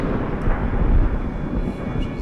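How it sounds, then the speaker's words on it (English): Thunder in the horror game SOMA, a deep, loud rolling rumble that swells and settles over about two seconds, heavy in the low end, with no voices. "it sounds like lightning"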